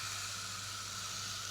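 Veal escalope frying in a little oil, a steady even hiss and sizzle with no pauses and no speech.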